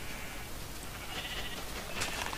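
Minecraft sheep bleat faintly a couple of times against a steady hiss, with short wavering calls toward the end.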